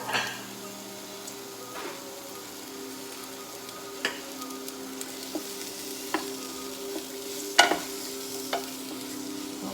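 Onion and peppers frying in oil give a soft, even sizzle in the background, marked by scattered sharp clicks and taps from a utensil against the pan.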